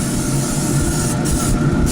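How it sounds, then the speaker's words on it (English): Two short hisses of cooking oil spray onto chicken skin cut in over a steady, rumbling background noise, close by and brief. "we're gonna spray the tops"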